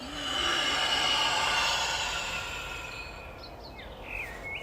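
A long, forceful roaring exhale during a yoga breathing exercise, a loud, breathy rush that swells over the first second or two and then slowly tapers off.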